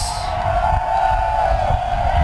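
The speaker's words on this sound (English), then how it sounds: "Here's a great look at our crowd here at Corbett Stadium." A stadium crowd at a girls' high school soccer championship roars steadily, a dense continuous mass of cheering voices heard loud and alone.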